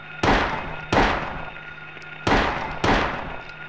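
Four sharp, loud gunshots ring out in a video game at an uneven pace, each one decaying quickly with no talk over them.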